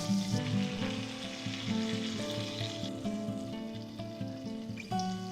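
Ribeye steaks sizzle in butter in a hot pan, a steady close frying crackle running throughout alongside a layer of tonal music.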